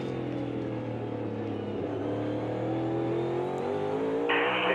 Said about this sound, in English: You could really hear the car as it comes up off the corner.